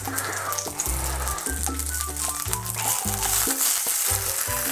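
Flour-dredged oxtail pieces fry in a hot pan, giving a steady, close sizzle and crackle that runs unbroken throughout, with faint low thumps underneath.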